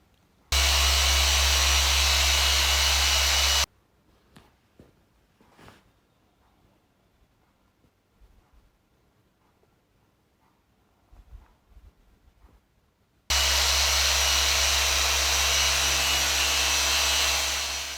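A machine polisher with a Cquartz microfiber pad works Cquartz 3000 polish into the paint of a BMW 320D, running as a loud, steady whine in two long bursts separated by a quiet stretch of light handling noises.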